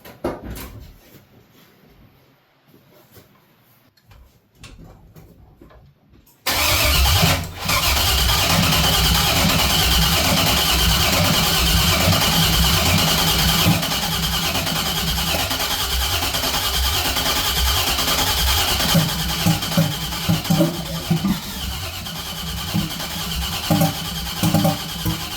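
The LS-swapped 1968 Cadillac hearse, flooded and failing to start, cranks in a long continuous churning drone after a few quiet seconds of faint clatter, loud and close, without catching.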